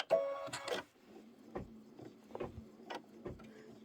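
A sewing machine stitches an appliqué tack-down on a quilt block in quick bursts, with rapid mechanical clatter and a low motor hum running underneath.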